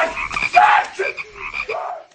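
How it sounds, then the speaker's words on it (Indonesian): A frog croaks several times in close, throaty pulses, with short gaps between the calls, heard alone at night. "Jae-kyung tidak bisa tidur karena mendengar suara katak."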